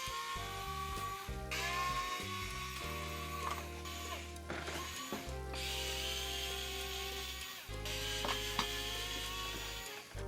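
A power screwdriver backs Phillips screws out of a big RC rally car, giving repeated whirring bursts with ratcheting clicks, steady and close throughout with brief pauses between screws.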